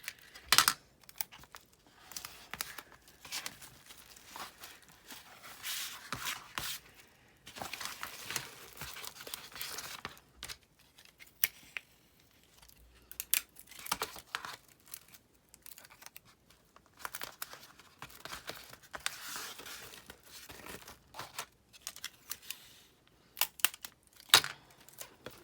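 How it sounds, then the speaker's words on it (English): Double-sided tape is peeled and plastic wrap is stretched over a gelli plate mold: long stretches of close crinkling, rustling and tearing in irregular bursts, fairly soft, with no talking. "I do want to stick some double-sided tape if I can get it off over here to hold that plastic wrap kind of tight"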